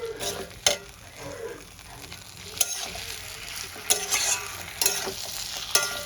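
Potatoes and eggplant stir-fried with spices sizzle softly in a pan, with repeated scraping stirs and occasional sharp clinks of the spoon against the metal at an uneven pace.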